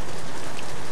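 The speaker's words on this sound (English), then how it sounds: "3 days later, it's still raining." Rain falls outside a hunting cabin as a steady, dense hiss of drops that fills the short moment with no voices.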